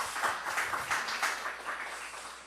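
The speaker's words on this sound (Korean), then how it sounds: "우리 성가대와 또 찬양팀 우리 격려의 박수 부탁합니다" A church congregation at Onnuri Church Osaka applauds the choir and praise team during Sunday worship; a soft, fairly distant patter of many hands claps continuously for a couple of seconds and slowly thins.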